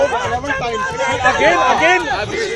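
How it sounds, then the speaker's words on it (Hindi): A crowd of supporters shouting anti-government slogans on a street in Gurugram, a dense babble of many overlapping raised voices, loud and close, with no single voice standing out. "समर्थकों की भीड़ है जो सरकार विरोधी नारेबाजी कर रही है।"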